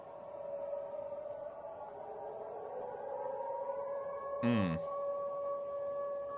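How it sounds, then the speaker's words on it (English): Air raid sirens going off in a town, a long steady wailing tone held over a noisy background, briefly interrupted by a short sweeping electronic burst near the end, no talk. "we also got to hear the air raid sirens going off in Ingalls as well"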